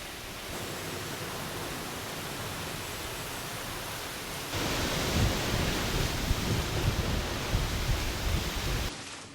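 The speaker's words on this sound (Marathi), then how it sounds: "आज सायंकाळी देखील विजांचा कडकडाट आणि वादळी वाऱ्यासह मान्सूनपूर्व पावसानं जोरदार हजेरी लावली।" Heavy pre-monsoon rain with stormy wind in Sangli, Maharashtra, makes a dense, steady roar that grows louder partway through and continues without pause.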